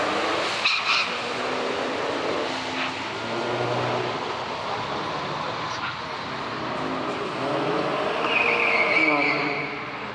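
A tuned Nissan Z accelerates hard down a drag strip, engine roaring continuously at close range with a brief shift break and tire noise, while a voice speaks faintly underneath.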